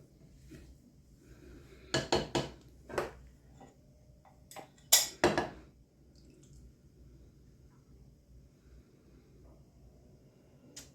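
Cake batter for a small Texas sheet cake goes into an 8x8 baking pan, heard as a few scattered clinks and scrapes of utensil on pan in a quiet kitchen.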